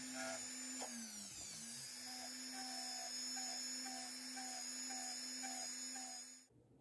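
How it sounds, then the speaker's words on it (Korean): A wax lathe spins a small wax prong setting for jewelry as it is carved, giving a steady faint motor whine with a soft, regularly repeating scraping pulse, quiet overall and cutting off at the end. "물레를 이용해서 깎아줍니다."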